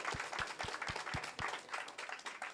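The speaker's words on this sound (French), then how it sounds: "vous pouvez applaudir" Audience applause at a French event commemorating the 40th anniversary of the March against Racism, a steady, moderately loud clapping that keeps up through the whole moment, with some sharp individual claps standing out.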